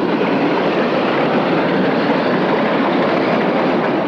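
Railroad cars rolling free during a flying switch on a short line, giving a steady, loud broadband rumble and hiss of wheels on rail with no break in sound and no talking.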